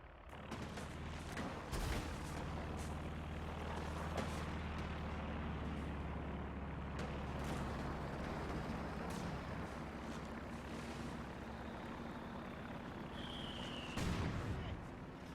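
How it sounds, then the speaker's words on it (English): Mortar explosions in Company of Heroes 2, a few muffled booming impacts breaking through a steady, rumbling battlefield background with engine drone and scattered distant pops. "Nothing's really been shooting off. A couple mortars."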